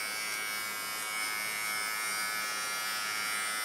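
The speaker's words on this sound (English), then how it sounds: "Yeah, you can hear that trimming my arm hairs even." A SUPRENT nose hair trimmer runs against arm hair, giving a steady, close electric buzz with a bright, hissy whir. The buzz holds level without pause and plays alone.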